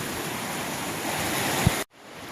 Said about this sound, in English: now I am just constantly going through these creek crossings here